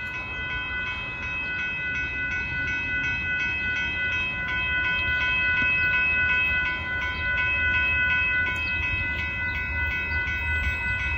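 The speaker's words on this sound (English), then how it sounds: "Here comes a northbound freight train that'll be going by" A northbound Union Pacific freight auto train rolls steadily past close by at Dittmar Road in Austin, Texas, a continuous rumble with metallic screeching tones and rattling cars throughout.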